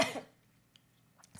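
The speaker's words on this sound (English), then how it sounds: "excuse me, I got cough really bad" A single harsh cough bursts out close and loud at the start, then fades into quiet broken only by faint small mouth sounds.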